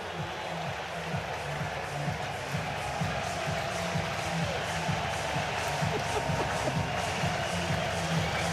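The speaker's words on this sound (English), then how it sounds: "and the crowd's going crazy." Baseball stadium crowd cheering after an automatic double in an MLB game between the Athletics and Minnesota Twins, a steady, distant roar of many voices with scattered claps and shouts throughout.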